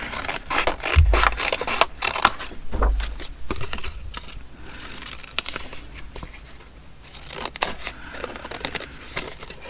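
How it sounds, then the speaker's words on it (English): Paper being torn and cut with scissors for ephemera crafting: close crinkling, scraping snips and rustling handling noises, uneven and moderately loud, with no speech. "So I think I'll tear that out as well as cut this out."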